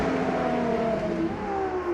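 A Ferrari LaFerrari hypercar's engine sings a smooth, high-pitched, sustained tone whose pitch drifts gradually lower, close and loud with no voices.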